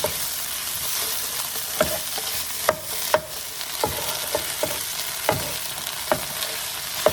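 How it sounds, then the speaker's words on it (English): Philly cheesesteak pasta stirred in a pan, a low sizzle beneath repeated sharp scrapes and knocks of a spoon against the pan at an irregular pace, close up. "I'm just gonna stir this together, mix it up."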